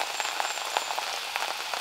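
Rain falling outdoors at a sports festival, a steady soft hiss with scattered drop patters on surfaces, fairly faint and even throughout.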